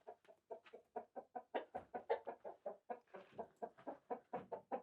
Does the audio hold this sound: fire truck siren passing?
no